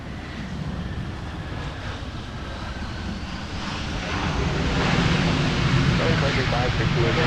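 A Delta jet takes off from runway 17 at Minneapolis–Saint Paul airport, its engine roar building gradually from a distant rumble to a louder, broad whoosh, with radio chatter in the background.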